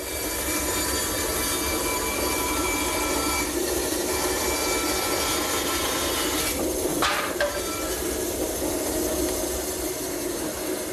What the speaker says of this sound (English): All I have to do is take my blank, drop it over the dowel pin in the jig, And we should be able to just spin it around and cut the circle.